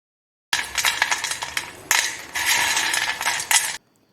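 Crispy fried nimki, an Assamese sweet snack, handled in bursts of dry clattering and rustling, close and fairly loud, with short pauses between the bursts and silence at the start and end.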